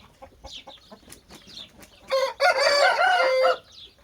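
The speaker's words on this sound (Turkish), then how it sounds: "Kafeslerin içerisinde horozlarımız var." An Indian game rooster in a cage crows loudly and close by, one long call, after scattered clucks and soft fowl noises; no one speaks.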